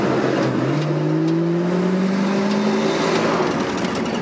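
Inside a 1977 Oldsmobile Cutlass Supreme Brougham T-Top, the engine hums loudly and steadily as the car climbs to speed, its rising drone blending with constant road and wind noise, with no talking.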